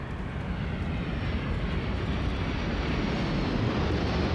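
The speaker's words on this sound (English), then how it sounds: "it actually sounds like an actual aircraft" Aircraft engine in the video game Starfield: a steady, moderately loud jet-like drone with a low rumble and a smooth airy hiss, continuous for several seconds with no talking.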